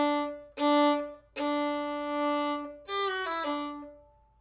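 Solo violin playing the opening two measures of Symphony XI, a few clear bowed notes with short gaps between phrases, close and unaccompanied.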